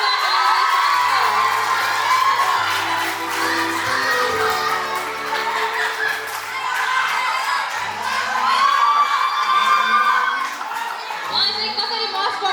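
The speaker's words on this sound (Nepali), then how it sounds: "जोरदार तालीले स्वागत गरौँ" An award-ceremony crowd at a dance school anniversary program cheers and whoops loudly and steadily, with children shouting among the din, as a most-popular award is announced.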